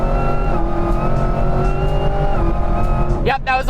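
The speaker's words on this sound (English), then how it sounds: "spinning the tires." A 1000 hp Camaro ZL1 Exorcist in track mode spinning its tires in third gear from about 40 mph: a loud, sustained engine roar that climbs steadily in pitch, then breaks off near the end.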